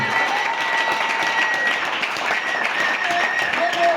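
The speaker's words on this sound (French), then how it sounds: "Acclamons Jésus." A church congregation applauds during a French-language service, with sustained clapping throughout and voices audible over the applause.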